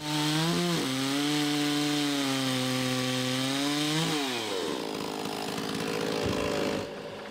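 A chainsaw mill cuts a walnut log into slabs 2 1/8 inch thick, the saw roaring steadily at close range, its pitch dipping and recovering as the chain loads up in the wood, then easing off near the end.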